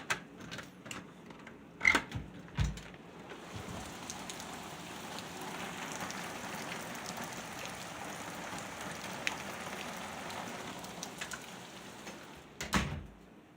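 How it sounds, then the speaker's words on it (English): Heavy rain falls steadily in Texas, a continuous hiss of drops on surfaces with a few sharp nearby knocks and clatters at the start and end. "It's raining a lot here in Texas."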